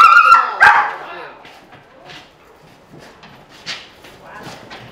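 A dog resembling a Malinois barks sharply once or twice near the start, followed by softer scattered yips and movement, with people talking over much of it.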